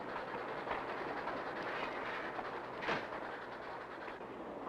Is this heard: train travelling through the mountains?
yes